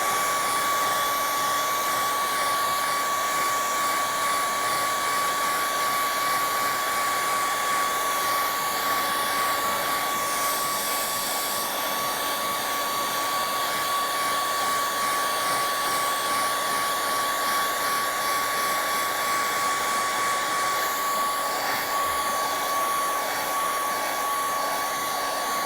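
A blower dries paint on an artwork, its steady high-pitched whirring hum running continuously and close for the whole stretch, with no speech.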